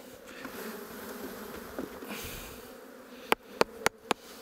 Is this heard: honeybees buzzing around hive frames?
yes